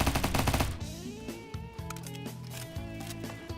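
Fast automatic fire from an M16 9mm in Roblox Bad Business, with a quick close burst at the start followed by scattered shots and game sounds at moderate loudness.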